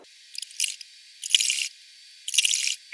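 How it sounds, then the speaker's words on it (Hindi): A sewing machine runs a long basting stitch along a folded blouse sleeve in three short, even whirring bursts with quiet gaps between them, close up and without speech. "मैं मशीन से कच्ची सिलाई इस पर चला दूंगी।"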